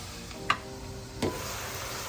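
Tofu and mushrooms cooking in a covered pan for a stir fry, with a soft, steady sizzle and two brief clanks, likely the lid going on.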